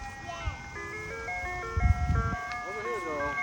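An ice cream truck plays its tinkling jingle of stepped notes continuously in a residential neighborhood at evening, fairly close, with a vehicle rumble and brief voices underneath.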